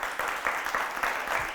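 A studio audience on a morning television show claps steadily for a teacher, a dense, even wash of applause at moderate distance lasting the whole moment.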